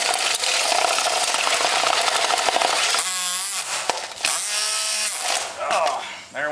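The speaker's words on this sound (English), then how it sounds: "Oh, there went the drill." A power drill working through a hay bale runs loud and harsh, then cuts out and restarts in short bursts with pitch sweeps as it strains.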